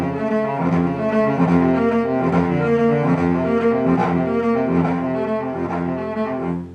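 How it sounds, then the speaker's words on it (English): A cello plays sustained, resonant chords in a steady accompaniment pattern, warm and close, with no voices. "The accompaniment, which is almost always in the cello, sounds like this."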